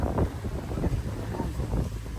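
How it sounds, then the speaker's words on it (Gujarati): Strong wind roars and buffets steadily at Saputara, rumbling against the microphone with gusts rising and falling throughout. "કેવો પવન છે"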